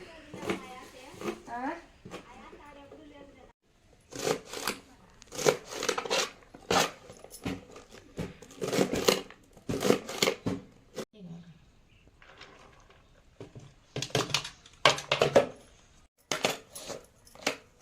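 Food being chopped into small pieces with a knife on a board in a home kitchen while ragi rotti is being made, sharp irregular clusters of cuts alternating with someone talking.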